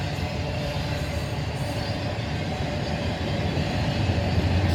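A long intermodal freight train of mostly empty 53-foot containers rolls past at Oak Harbor, a steady loud rumble and roar that holds without breaks, no voices heard.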